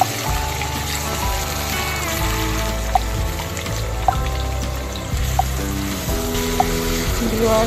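Onion, garlic paste, ginger paste and garam masala fry in hot oil, giving a loud, continuous sizzle with a few sharp clicks and pops scattered through it and no voices.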